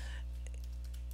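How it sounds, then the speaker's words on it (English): Keys on a computer keyboard tap in a few quick, light clicks over a steady low hum, faint and close. "I'm typing in the word friendly"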